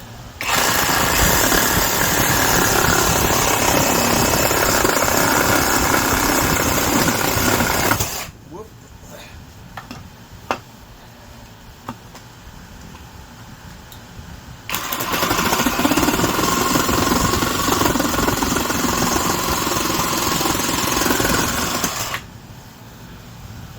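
A Vevor Pro Series brushless reciprocating saw fitted with a standard blade cuts in two loud, steady buzzing bursts of about seven seconds each, separated by a quieter pause.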